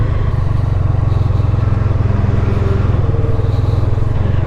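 Racing cars on the Goodwood race circuit give a steady, throbbing engine drone at moderate distance, continuous throughout with a pulsing low rumble and no talking.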